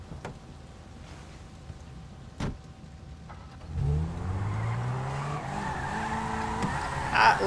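A Lamborghini-like sports car in Grand Theft Auto V sits at a low idle with a few sharp clicks, then revs up and accelerates with rising engine pitch and some tire squeal, growing louder toward the end.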